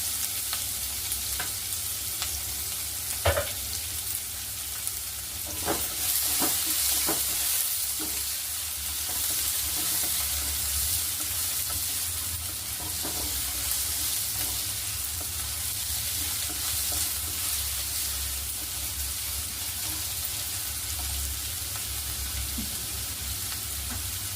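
Green chili and onion sizzle in hot oil in a pan for a tempering, with a steady close frying hiss and a few sharp pops and stirring clinks, and no talking.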